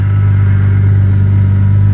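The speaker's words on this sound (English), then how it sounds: "And here's the car running." A Porsche Carrera GT with Gemballa modifications idles close by, a loud, steady low engine rumble with a constant tone and no revving or talking.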